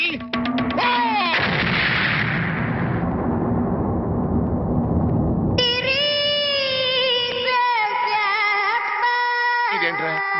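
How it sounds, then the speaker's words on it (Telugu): A bomb hidden inside a cow-dung gobbemma goes off in a comedy scene, a loud booming burst that decays into rumbling noise. Afterwards, tonal music takes over with no break. "ఇదేంట్రా గొబ్బెమ్మ పేలింది?"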